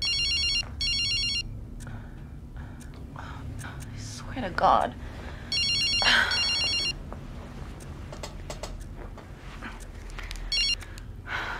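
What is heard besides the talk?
mobile phone ringing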